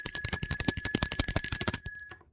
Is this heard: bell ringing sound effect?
yes